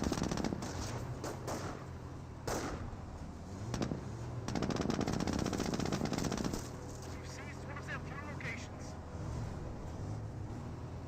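MG42 machine gun bursts in the World War II strategy game Company of Heroes, rapid rattling fire coming in several separate volleys amid battlefield noise, with game voices talking over parts of it.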